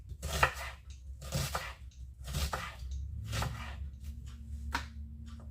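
A knife slicing onion into thin feather-like slices, about half a dozen crisp, separate cuts in an uneven rhythm, close and fairly quiet, with a faint board knock on each stroke.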